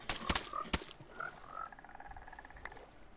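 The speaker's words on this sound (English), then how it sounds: "I'm gonna set these wonderful frogs loose out into the mangrove swamp and let them roam free" Minecraft 1.19 frogs croaking in a mangrove swamp: a few sharp clicks and short croaks up front, then drawn-out chirpy croak tones trailing off, fairly faint and close, with no talking.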